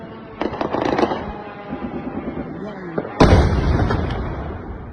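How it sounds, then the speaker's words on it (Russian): Explosions during a night drone attack on Odesa, a series of distant dull booms and thuds followed by a loud close blast, with people talking in the background. "Спустя какое-то время уже были слышны первые взрывы."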